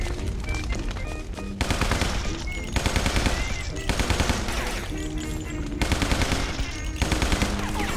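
Tommy gun firing in a zombie video game, dense rapid bursts of automatic fire in repeated volleys, loud and close, with music-like tones running underneath.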